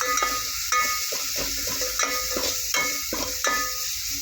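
Green chili paste for spinach khichdi is stirred in a hot pan, giving a steady sizzle with a spoon scraping at a regular rhythm about every 0.7 seconds.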